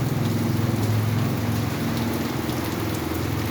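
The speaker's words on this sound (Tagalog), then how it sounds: "Lakas ng ulan, hindi makalabas." Heavy rain pours down in a dense, constant roar, loud and close, with no voices over it.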